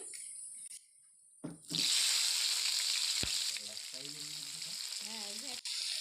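Chopped onion dropped into hot oil for a tilapia curry with mustard paste, bursting into a loud, steady sizzle after a quieter opening moment, with faint clinks and brief tonal chirps over the hiss.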